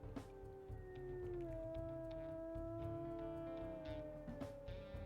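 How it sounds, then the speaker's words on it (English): A wolf in WolfQuest gives a long, drawn-out howl with a few overlapping tonal lines that slowly dip in pitch, fairly quiet and alone, with no wind or talk in the background. "really quick, we will show off his howls"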